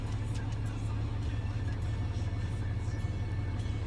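A pickup truck engine idles steadily while it warms up on a snowy day before plowing, giving a low, even rumble that carries on without a break through the whole stretch.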